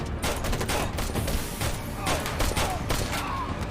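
Repeated gunshots ring out in a tense TV action scene, a rapid string of sharp cracks heard at moderate level amid background noise and faint talk.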